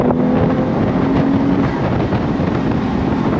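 A 2025 Porsche 911 Carrera T Cabriolet with a six-speed manual accelerates under throttle in third gear with the top down. Heavy, constant wind roar nearly buries a steady engine hum beneath it.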